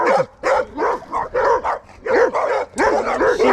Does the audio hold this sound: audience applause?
no